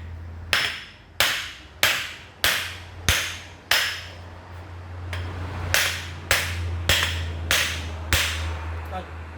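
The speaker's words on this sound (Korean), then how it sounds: "망치질은 이때 하는 거예요" Sharp metallic hammer blows ring out one after another at a steady pace on a removed constant-velocity joint and drive shaft from a Mercedes-Benz S350 W222 4MATIC, about a dozen strikes over a low background hum.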